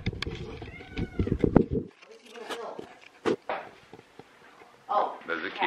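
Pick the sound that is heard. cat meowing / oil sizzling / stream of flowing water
cat meowing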